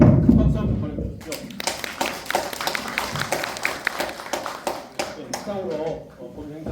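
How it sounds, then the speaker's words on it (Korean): Audience applause for three professors at the close of a Confucian culture academic forum, dense clapping starting after a brief voice and running steadily at close range, thinning slightly toward the end. "다시 한번 고생하신 세 분 교수님들 큰 박수 한번 보내주시죠."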